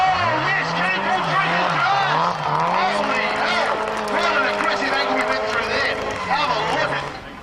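Drift car sliding through the third corner at Drift Nats round 2, its engine note rising and falling loudly and close, with a steady engine drone and occasional tyre noise throughout.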